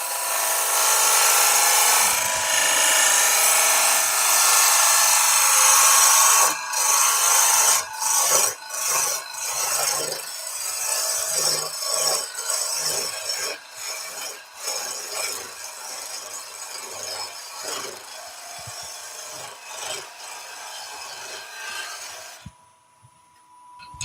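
Loud, continuous scraping of a tool cutting into a spinning wooden bowl on a lathe, broken by brief pauses and bursts, close up, stopping abruptly near the end.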